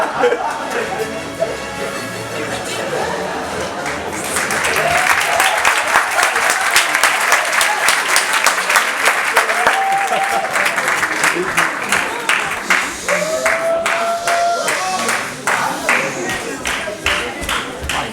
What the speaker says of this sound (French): j'ai maintenant l'honneur d'applaudir